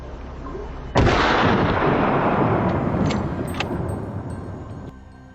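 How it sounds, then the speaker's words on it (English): A single thunderous gunshot during a wild boar hunt in snowy winter farmland, a sharp loud blast followed by a long rolling echo that slowly fades, with no talking. "The moment one dashed out of the thicket, a thunderous gunshot rang out."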